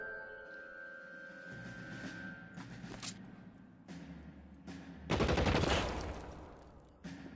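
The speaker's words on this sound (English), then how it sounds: "What's he shooting at?" Gunfire from the video game L.A. Noire crackles in several separate bursts, with a longer, louder volley toward the end, set against game background sound.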